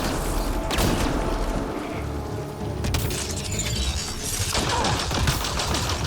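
Dense gunfire from the video game Mass Effect Andromeda, with repeated close shots and mechanical clatter under a busy, loud combat mix, with no talk.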